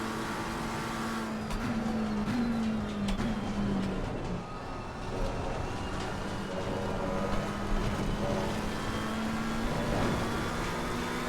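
A race car in the video game Assetto Corsa Competizione runs down the back straight toward Parabolica. A continuous engine tone rises and shifts over a dense, steady roar of tyres and wind.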